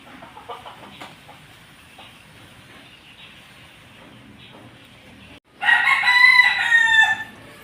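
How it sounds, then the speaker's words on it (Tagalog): A young rooster (stag) crows once, loud and close, after several seconds of quiet background rustling and faint clucking. "Ito yung mga stag."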